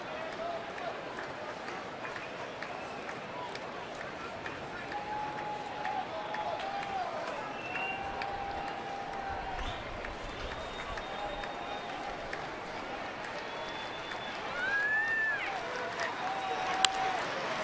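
A sellout baseball crowd at Comerica Park during a Tigers game against the White Sox keeps up a steady, distant roar and cheering under continuous play-by-play commentary.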